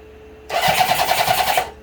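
Turbocharged Honda CB750 race bike engine being cranked over: a loud, close starter churn with rapid rhythmic pulses that lasts just over a second, then stops abruptly.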